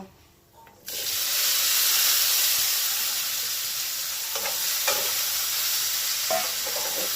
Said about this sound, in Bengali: এবারে কেটে রাখা ক্যাপসিকাম কুচো আর টমেটো কুচোগুলো এসে এতে দিয়ে ভাজা করব